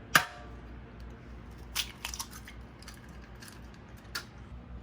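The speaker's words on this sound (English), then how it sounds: "Crack an egg." An egg is cracked against a mug of cold tap water mixed with vinegar, giving one sharp crack at the start, then a few faint clicks and small taps.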